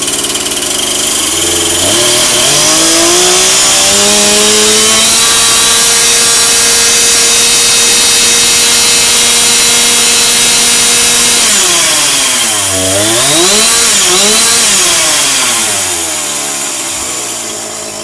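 Husqvarna 350 chainsaw, running again after a fuel line repair, loud and close, climbing from idle into a sustained high rev, dropping and surging again near the end.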